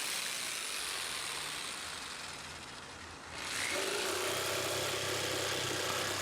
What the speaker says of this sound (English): I'm going to take the jigsaw and I'm going to start cutting out the shape.